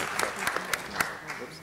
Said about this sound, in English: Let's give Mr. Garcetti a round of applause